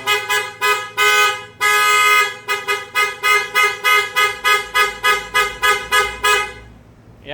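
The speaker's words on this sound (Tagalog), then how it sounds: "Yan, bali yun yung MXR horn natin na M85 po mga boss." An MXR M85 horn fitted to a Nissan Navara honks in a long series of loud, close blasts, a few longer tones at first followed by a rapid rhythmic string of short toots before stopping.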